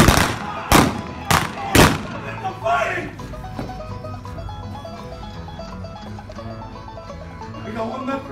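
Gunfire from an OK Corral gunfight reenactment in Tombstone, with three sharp, loud shots in quick succession at the start, followed by crowd murmur and indistinct voices.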